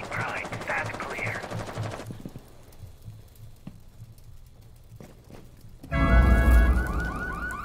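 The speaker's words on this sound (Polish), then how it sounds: "Alarm włączyli!" An alarm goes off in the video game Rainbow Six Siege: a loud, sweeping electronic wail bursts in near the end after scattered sharp in-game clicks and impacts.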